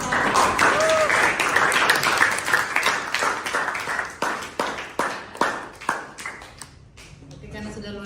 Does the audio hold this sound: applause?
yes